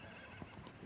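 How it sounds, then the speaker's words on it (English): A warmblood gelding whinnies at a show jumping event, a short, faint neigh set against steady broadband arena noise, with no talk over it. "Sarah riding 660 SP, a 7-year-old warm blood gelding by Cassiano out of Sophie by Powerfee."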